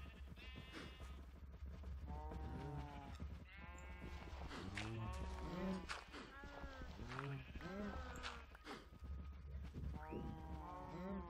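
Repeated bleating, mooing calls of Minecraft cows come one after another over a steady background hum, with occasional talk mixed in.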